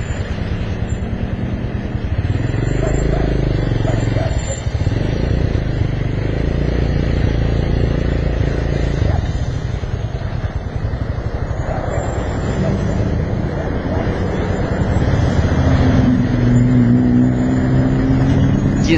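Motorcycles and cars rumble in dense road traffic on the road back from La Marquesa to Mexico City, a loud, continuous engine drone with occasional revving and clatter, close by and unbroken.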